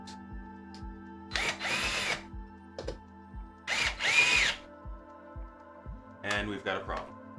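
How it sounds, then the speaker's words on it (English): Cordless power drill whirring in three short bursts, close and fairly loud, with a steady rhythmic thumping underneath and a voice talking between bursts. "This is why they said don't use power tools."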